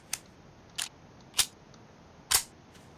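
A weapon reloads in the 7 Days to Die video game, producing four sharp mechanical clicks spaced about half a second apart, crisp and close over a quiet background.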